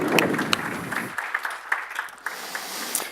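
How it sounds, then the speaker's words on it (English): Conference audience applause at the OSMC 2016 monitoring conference, a room of clapping mixed with a voice at first, then thinning to sparse individual claps that trail off. "just one more round of applause for the guys here."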